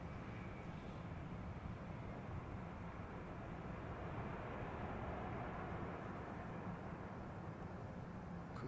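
Airliner with CFM engines at London Heathrow Airport, a steady loud roar of jet noise holding at one level throughout with no break.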